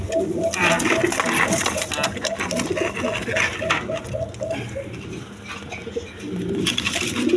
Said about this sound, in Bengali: এইখানে এক পেয়ার ফ্যান্টাল কবুতর আছে